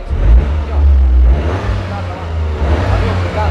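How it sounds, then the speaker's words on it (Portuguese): Toyota GR Corolla 2024 Core Edition with a 1.6 turbo engine revving, a deep, close rumble that swells and eases in surges while a voice talks over it. "E agora eu vou abrir a porta aqui para mostrar para vocês o ronco do carro"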